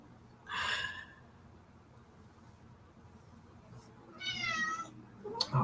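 A cat meows twice, the two calls a few seconds apart and fairly close, with a quiet pause between them and a faint extra sound at the end.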